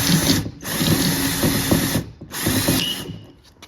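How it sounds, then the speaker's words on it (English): A power drill whirs in three loud bursts separated by short pauses while parting out an old snowmobile, with mechanical rattling in the low end. "I'm having some technical difficulties with the drill, so bear with us."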